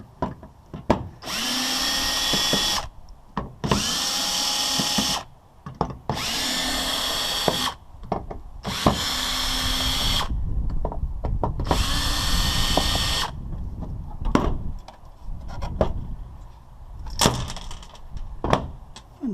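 Power drill backing screws out of a Dell PowerEdge 4400 server, five loud whirring bursts of a couple of seconds each separated by short pauses, followed by clicks and handling noises.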